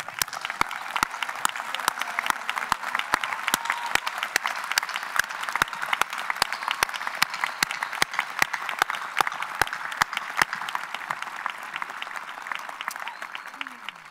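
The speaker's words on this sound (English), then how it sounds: "can we give all of them a round of applause?" A commencement crowd in the bleachers claps for standing veterans, a steady wash of applause with sharp individual claps nearby, continuing evenly before tapering slightly at the end.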